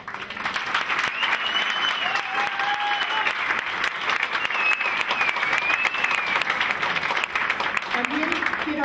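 Dense, sustained audience applause fills the room without letup for nearly nine seconds, loud and close, with a few whistles and crowd voices mixed into the clapping.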